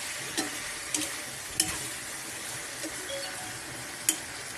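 Native chicken sautés in its own rendered fat, a constant soft sizzle with a few sharp spatula taps and scrapes spaced across it, close by and without speech.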